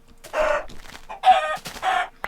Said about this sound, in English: Get back here, chicken.